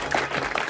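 A brief burst of applause from office staff gathered in a fashion house, a short dense patter of hands clapping together for under a second.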